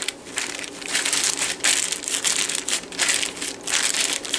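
Close, crisp crinkling of a plastic bag in irregular bursts as biscuit dough is rolled in it and squeezed, with no talking.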